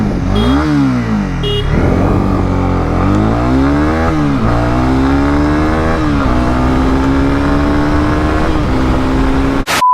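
A Honda CB300R or TVS Apache RTR 310 motorcycle revs loudly and close in first gear, its engine note climbing and falling through repeated throttle blips and sustained pulls, steady throughout.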